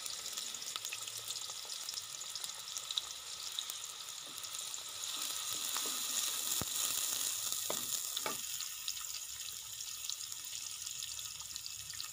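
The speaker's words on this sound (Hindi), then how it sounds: "घी में सबसे पहले प्याज डालें" Onion frying in ghee for a Punjabi-style mixed dal tadka: a steady, soft sizzle and crackle with a few brief clinks or stirring taps partway through, no voices.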